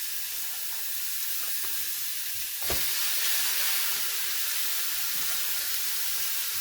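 Spencer steaks cooking on a hot grill, a steady bright hiss of sizzling fat that swells louder after a sharp clack about midway, continuous and close with no talking.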